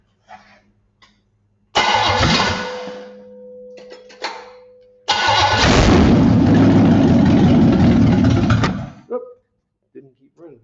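Car engine being cranked and started after an ignition timing change to 10 degrees: a brief start attempt that dies, a pause, then a second start that runs roughly for several seconds before stalling, with brief talk around it.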